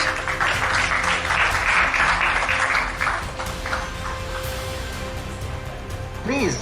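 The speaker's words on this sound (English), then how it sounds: "we give a big clap as we launch this book" Guests at a skills symposium clap for a book launch, a full burst of applause that thins out after a few seconds into scattered claps and room noise, with a short electronic chirp near the end.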